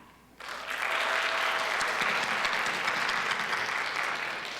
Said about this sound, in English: If you graduated from Essex County North Tech, please clap